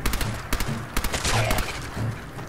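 Rapid bursts of gunfire in the video game Fallout 4 crackle in quick uneven volleys, with thuds mixed in, fairly faint throughout.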